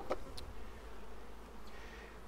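Honeybees buzzing around an open hive while nucleus colonies are being made, a faint, steady hum with a couple of individual bees passing close.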